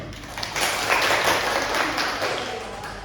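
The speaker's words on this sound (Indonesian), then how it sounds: "tepuk tangan buat temennya" A small classroom of students claps for a classmate after a light-diffraction presentation, a brief burst of moderate applause that swells and fades, with some voices mixed in.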